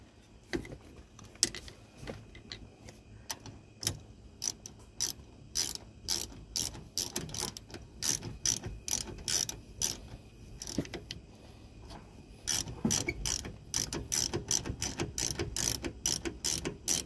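Ratchet wrench tightening the rear brake caliper bolts on a 2015 Dodge Charger, rapid rhythmic clicking in repeated bursts with short pauses, close and fairly loud, with no talk.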